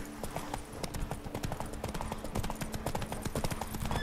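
Roach, a horse in The Witcher 3, galloping with a steady, rapid clip-clop of hooves at close range, continuous throughout over a low droning background.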